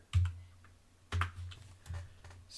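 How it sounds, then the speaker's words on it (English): Keystrokes on a computer keyboard typing a sudo pacman command at a Linux prompt: scattered clicky taps in small bursts with brief pauses between them, close and fairly quiet. "now I try typing in sudo pacman-s nano"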